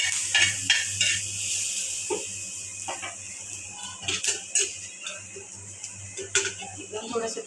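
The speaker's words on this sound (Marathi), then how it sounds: "कोथिंबीरीच्या दांड्या, कढीपत्ता एकत्र भाजून घेऊया।" Coriander stems and curry leaves dry-roast in a pan, with soft scraping stirs and light ticking taps over a faint steady hum, moderately quiet and close, no talk.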